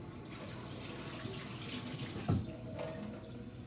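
Tap water runs steadily into a sink while a filter sponge is rinsed under it, a close continuous splashing wash with a brief louder knock partway through.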